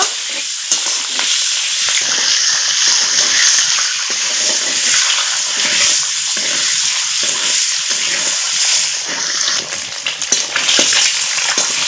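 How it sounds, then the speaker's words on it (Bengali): Boiled eggs frying in hot oil, a loud crackling sizzle with spitting pops and occasional stirring scrapes, close up and continuous. "সেদ্ধ করে রাখা ডিমগুলো দিয়ে দিলাম এখন এই ডিমগুলো একটু ভেজে নিব"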